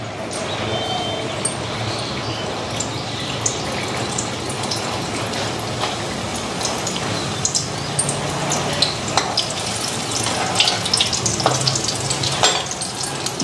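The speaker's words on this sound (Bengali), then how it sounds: "তাড়াতাড়ি ভেজে দিব।" Masoor dal puri, lentil-stuffed flatbread, frying in hot oil over a gas flame turned up high; a steady, dense sizzle and crackle runs throughout with no speech.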